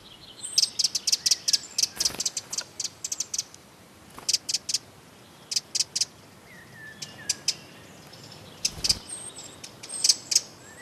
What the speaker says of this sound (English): They're coming from one of Germany's smallest birds, the wren.